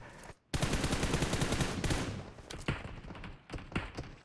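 Rapid gunfire from a rifle fired while lying prone in PUBG Mobile, a dense burst after a brief pause, then scattered single shots near and loud.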